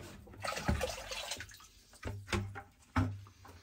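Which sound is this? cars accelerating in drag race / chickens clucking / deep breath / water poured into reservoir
water poured into reservoir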